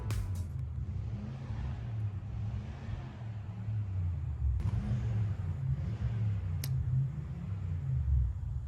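A car running after an engine swap idles and drives with a steady, deep, close rumble, a few faint clicks over the top.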